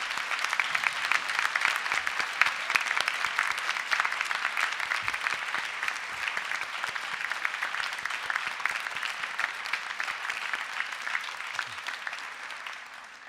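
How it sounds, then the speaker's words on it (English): A graduation ceremony audience applauds in a hall, a dense, steady clapping that holds evenly for over ten seconds before thinning slightly at the end. "please let's give a round of applause for all those people here and elsewhere who have helped, inspired and encouraged you through your journey."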